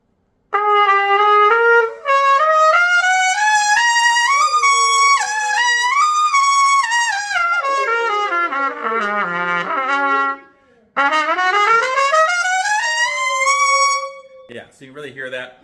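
An AR Resonance Feroce trumpet played through a shallow bowl-shaped mouthpiece, loud and close with a bright, sizzling tone, running sustained phrases and slides with a short break before a final rising run.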